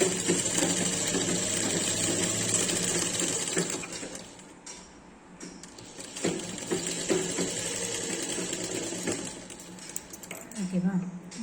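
A sewing machine stitching a baby frock gives a fast, steady mechanical whirr that cuts out briefly, then resumes in shorter bursts, with a person talking alongside.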